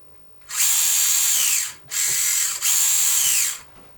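A small electric motor in an RC crawler Jeep build on an Injora chassis whines at a high pitch in three runs, one long and two shorter with a brief break between them. It sounds near, smooth and alone.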